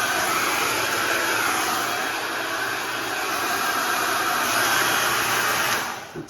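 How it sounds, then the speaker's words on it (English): A hair dryer blows with a steady, loud whooshing roar that holds constant for several seconds, then winds down at the end. "It's a great hairdryer."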